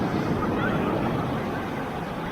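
Ocean waves at a Mexican beach, a steady loud broadband wash of surf that stays constant throughout, no voices over it.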